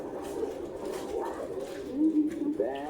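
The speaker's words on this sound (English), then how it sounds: "Is that a hornbill? It is a hornbill" A hornbill calls from a television program with a few harmonic hoots that rise toward the end, heard at moderate level over room noise and quiet talk.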